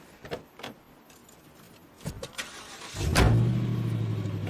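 A truck stuck up to its axle in mud: a few clicks and rattles, then the engine cranks into life and keeps running with a steady low rumble, no one speaking.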